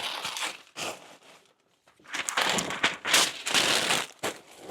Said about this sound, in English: Stuffing a bunch of paper in.